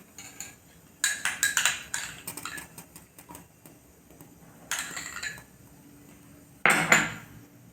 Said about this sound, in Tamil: இப்போ கொஞ்சம் நெய் ஊற்றி முந்திரி பருப்பு வறுத்துக்கலாம்.